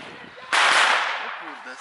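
A single New Year's Eve firecracker banger bursts with a sharp, loud crack whose noisy tail fades over the next second, with quiet background sounds before and after.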